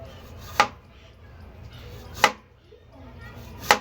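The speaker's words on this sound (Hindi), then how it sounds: "अब हम आपको काट कर दिखाते हैं। बिल्कुल पतले हम काट लेंगे ये आलू" Three evenly spaced knife strokes cut peeled potatoes into thin slices on a board. Each chop lands as a crisp, close thud, with quiet room noise between the cuts.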